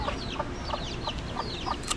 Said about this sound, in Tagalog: Malaki yung mga manok ko.